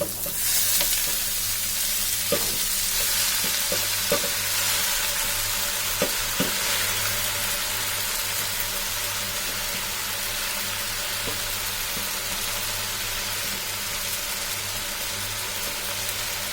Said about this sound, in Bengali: এখন ভালোভাবে নেড়ে চেড়ে আমরা এর মধ্যে যে শাকটুকু আছে এখন দিয়ে দিব।